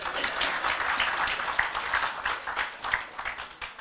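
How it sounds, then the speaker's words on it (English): A crowd at a Kenya youth employment and entrepreneurs launch event claps and cheers in a steady, lively burst of applause, fairly close and continuous throughout. "So you should clap for us."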